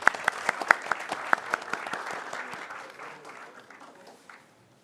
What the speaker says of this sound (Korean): 저희가 박수 한번 좀 쳐드리죠